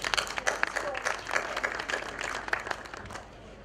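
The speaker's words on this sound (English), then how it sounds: "je vous demanderai de l'applaudir" An audience at a Burundi Day trade fair claps steadily at close range, the clapping dense for about three seconds before it thins out and fades.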